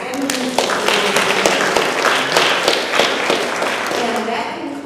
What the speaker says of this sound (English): If we can give those kids a round of applause and the ministers.